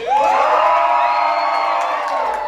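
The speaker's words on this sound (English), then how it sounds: "the crowd goes even more wild" A cartoon crowd cheers wildly, a loud sustained roar of whoops and shouts that stays full and steady throughout.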